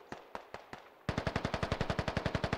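Rapid automatic gunfire in a military shooter game, starting with a few spaced distant shots and then a steady loud burst of evenly spaced rounds, with no voices.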